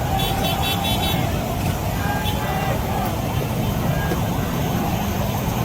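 Dense traffic on EDSA in the early morning hours, a continuous roar of engines with intermittent horn toots scattered through it. A voice talks over the traffic.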